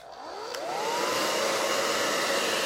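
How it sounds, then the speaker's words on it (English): A hair dryer on its warm setting whirs up and blows steadily with a rising whine, close and constant, no talking. "I am going to grab my blow dryer"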